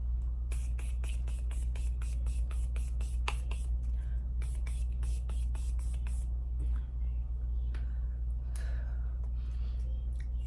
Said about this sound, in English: finish off this look with this setting spray from Morphe